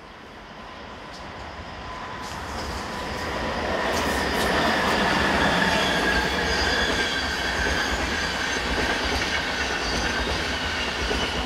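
A train passes through a station on a European main line, rumbling steadily and growing louder with clattering wheels and metallic squeal, heard alone with no voices.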